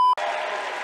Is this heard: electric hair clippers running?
no